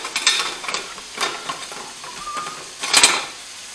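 Sliced mushrooms and garlic sautéing in oil while a utensil stirs them through the pan, giving a few scraping, rustling strokes over a soft sizzle, with a brighter burst of stirring near the end.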